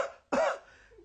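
A person imitates a robot's cough: one short, harsh cough burst, close and fairly loud, framed by faint throat sounds.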